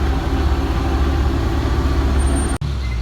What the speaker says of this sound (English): There's a truck over here beside of me, this big refrigerated truck, I guess, bringing food in for the weekend.